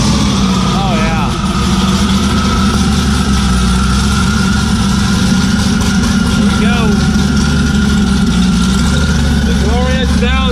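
The turbocharged car Leroy idles loudly and close, a steady deep rumble with a lumpy, uneven beat and occasional whistly turbo chirps, running continuously throughout.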